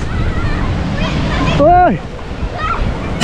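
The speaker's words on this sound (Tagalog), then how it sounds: "sasalubungin nila yung malakas na ulan" Heavy rain pours down during a hot summer, a steady broadband roar like rushing water that swells midway, with excited voices calling out over it.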